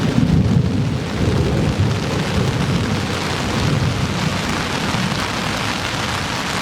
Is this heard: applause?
no